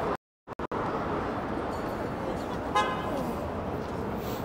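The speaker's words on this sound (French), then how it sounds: "C'est rare d'entendre un klaxon au Japon." A car horn honks once in a busy street in Japan, a short tonal blast rising over steady traffic and crowd din, with people talking nearby.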